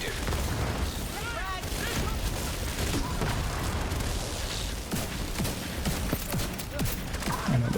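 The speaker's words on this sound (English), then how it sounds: "the explosion of the fire grenade" A fire grenade exploding in a video game, a dense, loud wash of booming blasts and crackling gunfire-like bursts that fills the whole stretch without letup.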